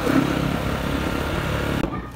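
A motorbike rides along steadily, its engine droning close with wind rush and rattling, ending in an abrupt cut near the finish.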